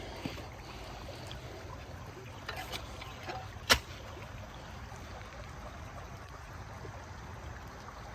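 Low, steady creek water runs faintly in the background as an even broadband wash, broken by one sharp click partway through.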